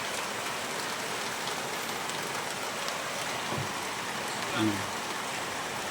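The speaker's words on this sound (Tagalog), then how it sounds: "Pumapatak na naman ang ulan sa bubong ng bahay." Heavy rain falling on a house roof in the provinces, a dense, steady hiss of drops with a faint brief knock near the end, continuous and close.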